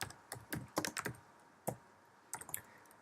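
Typing on a computer keyboard in bursts of sharp clicks, several quick keystrokes followed by pauses, close and fairly quiet with no talking.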